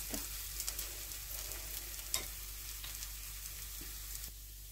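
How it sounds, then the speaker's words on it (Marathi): Mixed-flour thalipeeth flatbread sizzles and crackles steadily as it roasts on a hot pan, a soft continuous frying hiss with small pops and no talking. "एक मिनिट भर व्यवस्थित खरपूस भाजून घ्यायचं"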